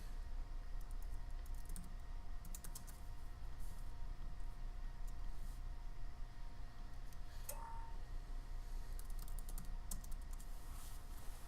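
Soft, quick keystrokes on a Mac keyboard tap out a folder name in irregular bursts, close and fairly quiet against a faint background hum.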